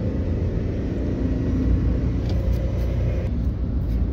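A car engine drones at low revs at about 20 km/h during a driving lesson in Pune as the driver shifts into second gear. The rumble is steady and close, with no talking.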